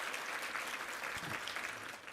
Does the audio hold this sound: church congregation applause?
yes